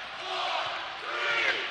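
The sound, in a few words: basketball crowd counting down the shot clock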